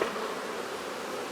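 Honey bees buzzing during a spring hive inspection, a dense, steady hum of many bees close by, continuous and without voices.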